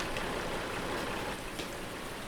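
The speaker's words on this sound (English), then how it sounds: "Still raining." Steady rain falls in a survival game, a dense, even hiss of drops with occasional louder patters, continuous throughout and no talking.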